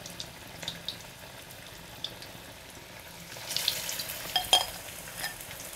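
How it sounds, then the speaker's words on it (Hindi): Methi bada, fenugreek fritters, frying in hot oil: a soft, steady crackle and sizzle runs throughout with no talk, growing busier and louder in the second half with a few sharper pops. "बचे हुए भी बड़े को फ्राई कर लेते हैं।"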